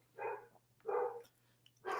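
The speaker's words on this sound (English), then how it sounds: "And he's going to bark." A dog indoors in a gym barks three times at a stranger at the door, each bark short and sharp, fairly faint, spaced about a second apart over a low steady hum.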